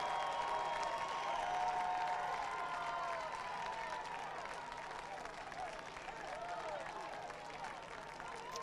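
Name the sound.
Davidson football fans cheering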